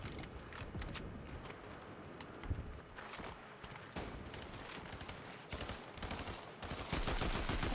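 Video game gunfire rattles in rapid, uneven bursts of shots, some single cracks and some automatic fire, fairly quiet throughout and with no speech over it.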